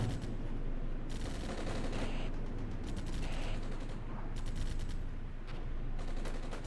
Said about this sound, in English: Enemy artillery barrage incoming.